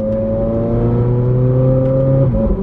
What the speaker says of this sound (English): I can't believe I'm driving a 458.